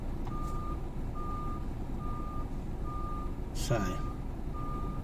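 A lorry's reversing alarm sounds a steady series of evenly spaced single beeps in an outdoor street setting, over constant background traffic rumble, with a brief voice and a passing noise near the end.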